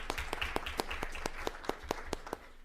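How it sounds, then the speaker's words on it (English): Sparse applause for crossing guards at a school board meeting, a small group's distinct claps at a quick, uneven rhythm, faint and distant, fading out near the end. "I'll give them an applause"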